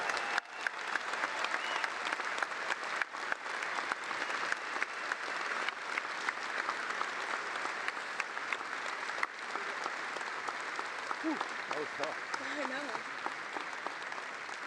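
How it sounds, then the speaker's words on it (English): A convention hall audience applauds steadily, a sustained mass of clapping heard from within the crowd, with faint voices surfacing near the end. "And by a show of applause now, that the NALC also loves you"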